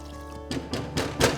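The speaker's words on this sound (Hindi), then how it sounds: "उसके बाद इसमें डाल दो जी वही दाल का पानी" Lentil cooking water poured into a spicy Kolhapuri misal curry, a few soft thunks and splashy pours in quick bursts, close and moderately quiet, no talking.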